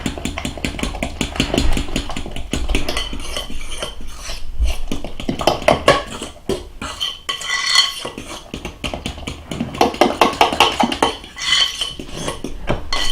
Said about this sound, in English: stir those up good, kind of beat them a little bit. Mix them in.